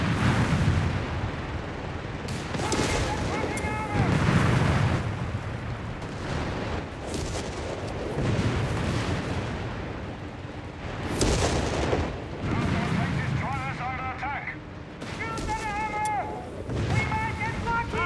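An artillery barrage in Company of Heroes 3 with continuous rumbling booms and blasts, while radio-style unit voice lines and beeping tones sound over the top.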